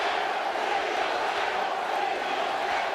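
Dense, steady crowd noise fills a boxing arena during a Deontay Wilder heavyweight bout, a continuous roar of fans chanting USA with no pauses and no clear speech above it.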